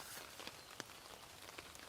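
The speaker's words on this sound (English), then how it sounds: "it is raining enough" Steady rain falling outdoors onto a tarp shelter, a dense continuous hiss with scattered sharper drop taps, fairly faint, with no voices.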